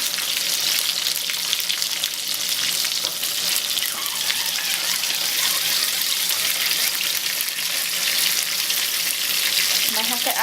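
Stuffed tomatoes frying in oil in a pan, giving a steady, dense sizzle that holds evenly throughout at moderate loudness, with faint clinks underneath.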